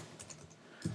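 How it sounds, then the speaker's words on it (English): Computer keyboard typing heard faintly and close by: scattered soft key clicks give way to a denser, louder burst of taps at the very end. "If we had better mics, you wouldn't hear me typing this in."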